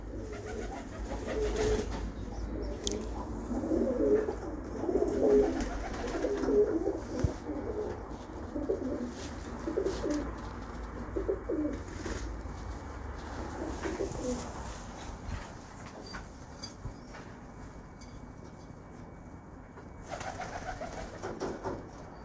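Pigeons from a breeder's loft coo in repeated soft, throaty phrases, close and clear, with a few rustles and faint background noise between the calls.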